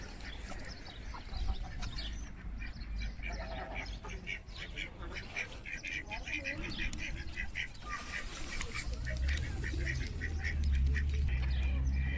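Ducks quack repeatedly at a pond in a valley in Riyadh, their calls overlapping with a steady background rumble that grows louder toward the end.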